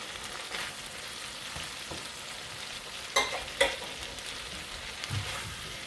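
Assorted fish balls and gai lan fry in a pan with a steady soft sizzle, punctuated by a few sharp utensil clicks and scrapes midway, close and without speech.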